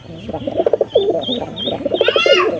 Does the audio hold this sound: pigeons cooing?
yes